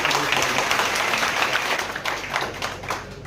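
Audience at a G20 Janbhagidari event in Jaunpur applauds loudly, a dense steady wash of many hands clapping that runs the whole moment and tapers slightly toward the end.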